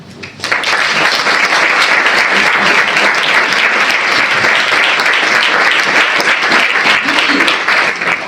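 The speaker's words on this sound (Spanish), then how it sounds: "Me gustaría que ustedes las aplaudieran." A festival audience in Málaga breaks into loud, dense applause for the panel guests, sustained and even from just after the start to the end, with faint crowd murmur underneath.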